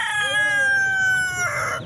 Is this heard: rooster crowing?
yes